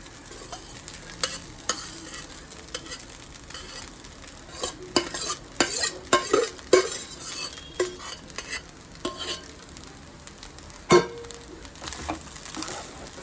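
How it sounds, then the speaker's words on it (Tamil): Cooked rice is stirred into roasted coconut in a frying pan: repeated scraping and clinking strokes of a spoon against metal, with soft sizzling underneath, close and irregular. "நல்லா கலக்கிக்கலாம்"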